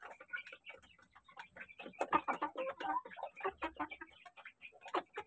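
Rhode Island brown chickens clucking close by, a busy run of short overlapping clucks and calls with uneven rhythm and no talk.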